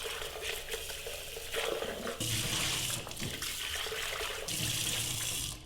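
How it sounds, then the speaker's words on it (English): Cold tap water runs and splashes into a blender as it is rinsed in a sink, a steady hiss with surges as the flow shifts, close and moderately quiet. "I then take my blender, rinse it with cold water."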